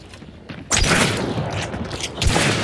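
In the Hunt: Showdown game, a loud burst of gunfire with booming, mechanical clatter erupts after a quieter start and keeps rumbling, swelling again near the end.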